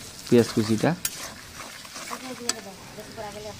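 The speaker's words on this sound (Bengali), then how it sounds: "ওই তেলের মধ্যে আবার পেঁয়াজ কুচি ভালোভাবে ভেজে নিচ্ছে" Chopped onions fry in oil left from cooking hilsa fish, a soft, steady sizzle heard beneath a person talking.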